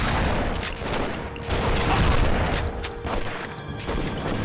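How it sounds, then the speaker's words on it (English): Rapid gunfire crackles in The Punisher PS2 video game, a dense, continuous barrage of shots with no voices. "Who's shooting?"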